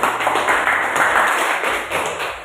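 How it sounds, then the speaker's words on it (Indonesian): A classroom of students claps for a student group presenting in an Indonesian high school religion lesson, a short burst of close, uneven hand clapping with a few louder taps. "Ya, berikan tepuk tangan untuk kelompok aku."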